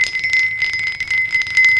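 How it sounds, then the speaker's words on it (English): A rough lithophone stone is rubbed, drawing out a sustained, bright bell-like ringing tone with a shimmering, fluttering texture, close and fairly loud, with no voices. "you can get kind of a ringing, a bell-like sound, like that one"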